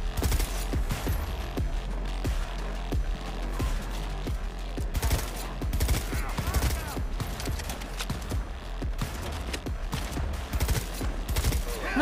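Rapid volleys of gunfire fill a shootout in the video game Cyberpunk, dense and continuous bursts with scattered impacts throughout, loud and close, while players talk over the fighting.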